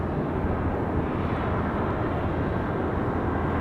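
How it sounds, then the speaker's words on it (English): A Cessna 172 departing Raleigh Durham airport, heard as a continuous, steady engine roar and rumble that stays loud and even throughout. "As we get the Cessna 172 out of here"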